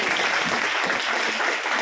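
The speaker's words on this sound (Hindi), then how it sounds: "वेरी गुड, जोरदार तालियां हो जाए अपने," An audience at a seminar claps loudly and steadily, a dense wash of applause from many hands that fills the whole moment with no voices above it.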